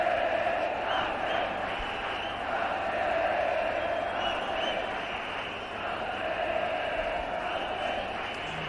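Cricket crowd at a Test match in Mumbai roaring in support of fast bowler Zaheer Khan, a continuous far-off stadium din that swells and dips across the clip, with a commentator's voice faintly underneath.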